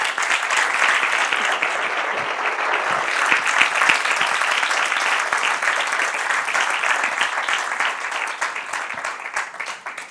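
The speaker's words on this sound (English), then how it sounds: "a big round of applause to Carmen for what she's done" Sustained audience applause at a medical talk, dense and steady clapping from a crowd filling the whole stretch, easing slightly toward the end.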